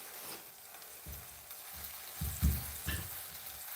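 A Ugandan rolex frying in a small frying pan gives a soft, steady sizzle, punctuated by a few low knocks and pops from the pan, quiet and close, with no voices.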